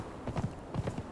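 Horse hooves clip-clop in the Conan Exiles video game, Isle of Siptah, as a mount travels across open ground; two quick pairs of muffled hoof beats sound close, with no talking.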